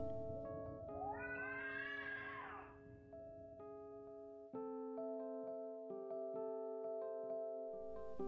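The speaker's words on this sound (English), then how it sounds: "Mum Pam can hear cats, very faint at first, but there it is" Faint cat meows drift from inside the walls of a haunted house, one drawn-out rising and falling cry standing out against a sustained eerie tonal drone.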